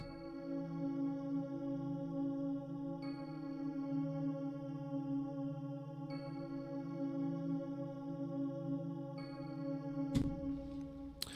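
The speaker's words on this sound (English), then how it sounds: "and it's called Heavenly Bell Pad." Quiet Heavenly Bell Pad from the Expand plugin plays a very simple, sustained melody with soft bell-like overtones, notes shifting every few seconds, alone and gently echoing.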